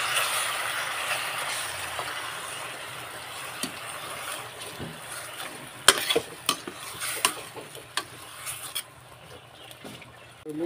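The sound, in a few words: stirring squid adobo in a pan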